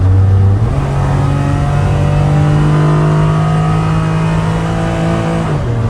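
Engine of a 1993 Suzuki Carry Joy Pop kei van with automatic transmission revving loudly and steadily, a rising then sustained throaty tone close up, dropping back near the end.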